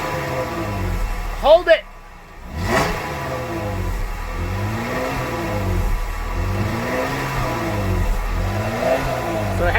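Close, loud revving of a 2016 Jeep Wrangler Rubicon on its stock single-outlet exhaust with cold air intake and snorkel, repeated rising-and-falling throttle blips over a steady idle, with a brief spoken word early on.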